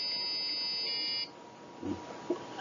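A small speaker driven by an Arduino gives a steady, buzzy electronic musical note for just over a second, then fades into quiet background hiss with a few faint soft knocks.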